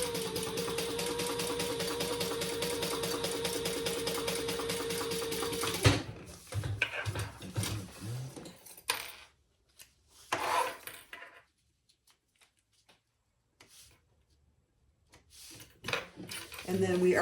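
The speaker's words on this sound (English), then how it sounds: "we will sew across the bottom of this card slot to finish that" A sewing machine stitches across the bottom of a wallet card slot, a rapid steady mechanical chatter for about six seconds, followed by intermittent handling clicks and rustles with quiet gaps.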